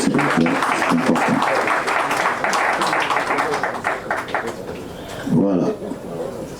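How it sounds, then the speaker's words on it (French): Audience at an official signing ceremony applauding, a dense continuous wash of many hands clapping, with a voice speaking over it near the end. "On peut applaudir ces événements, s'il vous plaît, c'est important."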